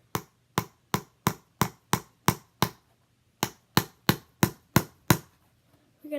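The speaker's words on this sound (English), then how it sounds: "So I've just nailed it in." Hammer driving a nail while making a heart candy box, two runs of sharp, evenly spaced close strikes, about eight then six blows, separated by a brief pause.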